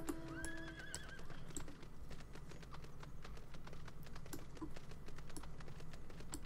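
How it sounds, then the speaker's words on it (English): A blue horse mount in a video game whinnies clearly at the start, followed by steady clip-clopping hoofbeats mixed with the rapid clatter of computer keyboard typing, all fairly quiet. "I'm gonna ride this one, my blue horse."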